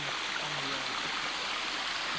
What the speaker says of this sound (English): Here we are on Roaring Fork Falls. Top of it.